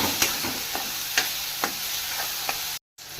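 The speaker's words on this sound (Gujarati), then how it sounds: "હવે આને પણ હલાવી દઈશું. સરખી રીતના બધું મિક્સ કરી દઈશું." Boiled corn kernels being stirred into a sandwich masala mixture in a pan, a spoon scraping in a few separate strokes over a soft, steady hiss, with a brief silent gap near the end.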